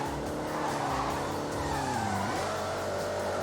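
A car engine at full throttle in a racing game, a steady loud roar with rising and falling pitch, plus a tire-squeal drift near the end, with no voices.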